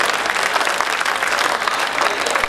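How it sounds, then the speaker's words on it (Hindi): Loud, dense audience applause fills the whole stretch at a steady level, a crowd clapping together at a humorous satirical poetry gathering in 2018. "एक बार तालियां बजा दो।"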